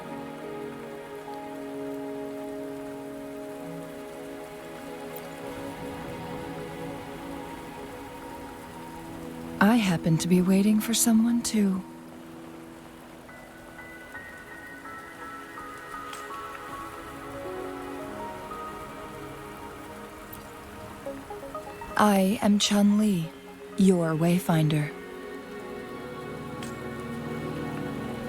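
Steady rain patters across the scene in the video game Wuthering Waves, a constant soft wash that runs the whole time while characters speak over it in two short bursts.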